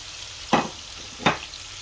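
Chopped garlic and onion hit a hot pan in two brief bursts of sizzling, each flaring up and settling quickly, with a low frying hiss underneath and no voices.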